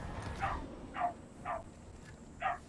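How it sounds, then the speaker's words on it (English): A dog barks outside, four evenly spaced barks at moderate distance, heard over a steady low background hum. "There goes JJ barking outside"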